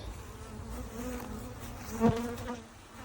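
A close, continuous hum of honeybees buzzing around a hive, with one louder bee passing near the middle before the drone settles back.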